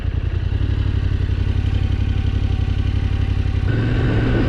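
Husqvarna 701 or Yamaha Tenere 700 adventure motorcycle engine running loud and close with a rough, uneven pulsing idle that shifts pitch near the end, as if about to stall.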